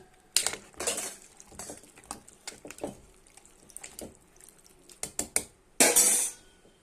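Spoon stirring mixed vegetable curry in a steel pressure cooker, a series of sharp metallic clinks and scrapes spaced irregularly, ending with a louder splashy scrape.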